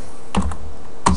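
Computer keyboard typed on at a desk, three quick separate keystrokes close and clear against a steady low hum.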